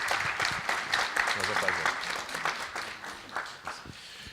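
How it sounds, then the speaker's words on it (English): Audience applause at a tech conference, steady clapping of moderate loudness with someone speaking briefly over it and the clapping thinning slightly toward the end. "I will ask everybody to give a big round of applause"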